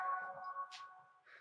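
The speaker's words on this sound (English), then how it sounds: "that's my phone ringing" A mobile phone ringing indoors, a steady electronic ringtone tone held for over a second with short brighter chirps, moderately faint.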